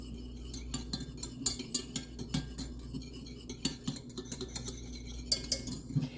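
An Epicure mini whisk beats quickly in a bowl. Close, rapid metallic clicks and scrapes come in an uneven rhythm, with no voices.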